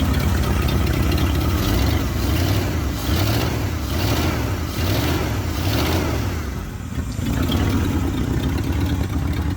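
A Ford F-250's original 390 FE V8 with around 180,000 miles runs steadily up close, its loud, even rumble pulsing slightly through the whole stretch.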